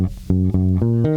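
Electric bass plays one bar of the chorus of a song, a handful of clean, sustained low notes picked one after another, loud and close with nothing else around.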